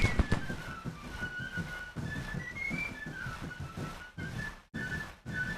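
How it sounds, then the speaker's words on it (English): Troops firing in a Grand Tactician battle: scattered musket pops and crackling volleys with faint whistling tones, gaps of near silence between bursts, no talking. "the game is technically paused and these guys are still firing"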